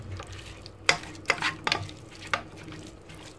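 A tomato mixture stirred in a pot over a gas burner, soft sizzling throughout with a few sharper scrapes and knocks of the spoon against the pot, close and moderately quiet, no voices.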